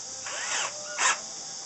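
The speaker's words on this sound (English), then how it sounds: "I'm going to drill a small hole." A small power drill whirs steadily with two brief rising bursts as a 1/16-inch bit bites into the neck of a resonator ukulele, fairly close and moderately loud, no voices.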